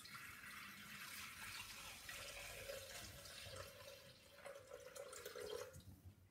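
Water, 500 g of it, pours into a Thermomix (Bimby) mixing bowl, a soft steady splashing trickle at moderate distance that runs for several seconds without any talk.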